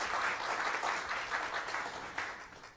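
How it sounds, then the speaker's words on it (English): A community gathering on the first day of Advent applauds a welcomed guest, a soft, steady wash of clapping from a modest crowd, even and continuous with a slight lift near the end. "Please give her another round of applause"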